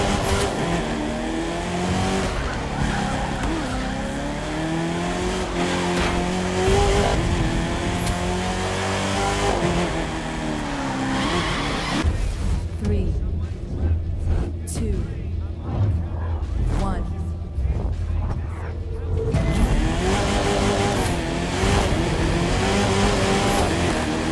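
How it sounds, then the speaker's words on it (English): Roaring Chevrolet Camaro ZL1 2017 engines in The Crew 2 video game street race rev and race continuously, rising and falling in pitch, with a brief quieter stretch before the loud engine noise returns. "That's the sound of classic American muscle car engines"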